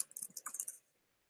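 A computer keyboard's keys, the tab key among them, click in a quick run of about eight or nine light, crisp presses close by, then stop and leave near silence.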